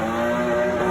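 Loud, steady engine roar from a car with a loud aftermarket muffler, held at high revs close by for under a second with no talk over it.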